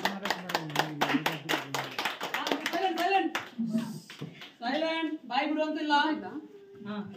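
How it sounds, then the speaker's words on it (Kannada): Dense, loud clapping from a training audience at a Modicare comedy training session in Shivamogga fills the first few seconds, then fades as voices talk and laugh over it. "ಜೋರಾದ ಚಪ್ಪಾಳೆ."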